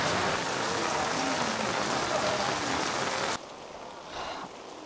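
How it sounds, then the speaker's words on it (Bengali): Heavy rain pours steadily in Chiang Mai, Thailand, a dense, loud hiss, then abruptly drops to a softer, more muffled patter near the end. "এখন প্রচণ্ড বৃষ্টি হচ্ছে"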